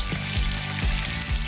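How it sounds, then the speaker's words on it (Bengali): Fish frying in hot oil in a home kitchen, a steady close sizzle with a few soft spatula scrapes or stirs, no talk. "মাছ ভাজা হয়ে গেছে।"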